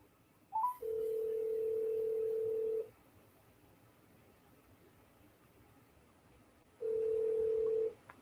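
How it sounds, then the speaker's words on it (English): A phone call being placed: a steady electronic ringback tone sounds twice, a long two-second ring, a silent gap, then a second ring begins, close and clear over faint background hiss. "So anyway, Alex, I'm just going to give you a call and see while we're waiting for this"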